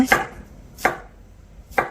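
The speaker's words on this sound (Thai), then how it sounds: "ข้าวโพดอ่อนเล็กก็จะหั่นฉลับนะคะ" A knife cuts baby corn on a board in three crisp, evenly spaced chops, each one close and distinct, with quiet between strokes.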